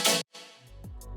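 Resampled, chopped vocoder growl fragments for a liquid drum and bass track stutter in short bright bursts, one loud stab followed by a gap, then a sputtering tail with a low bass swell underneath.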